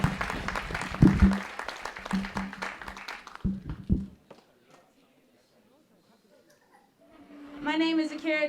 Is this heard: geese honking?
no